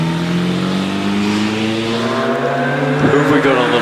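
A Type 35 vintage race car with a 2.3-litre unsupercharged engine climbing at Prescott hill climb, its engine note droning steadily with rising pitch and a brief surge near the end, under continuous commentary.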